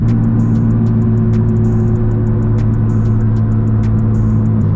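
Nissan 350Z DE with a full HKS exhaust driving, a loud steady low engine drone with strong harmonic tones heard from inside the car, continuous throughout.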